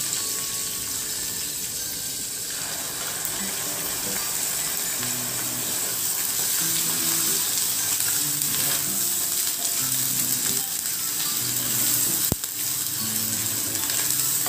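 Ground masala paste fries in a pan with curry leaves and green chillies, giving a loud, continuous sizzle with occasional stirring clunks, close up and without talk.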